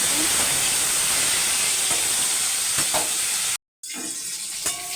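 Chara pona fish rubbed with salt and turmeric sizzle steadily in hot oil, a loud continuous crackling hiss close by, briefly cut off near the end before resuming.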